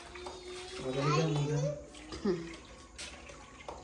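Water gushes from a tap in a continuous, fairly close splashing stream, while a voice chatters over it.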